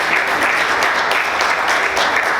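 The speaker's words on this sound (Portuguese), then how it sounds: "Você pode aplaudir Jesus?" A church congregation applauding during a service, a dense, steady wash of clapping that fills the whole moment without pause.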